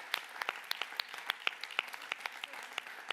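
Faint, scattered hand claps from a small audience at a European education awards ceremony, individual claps distinct and unevenly spaced, soft and somewhat distant.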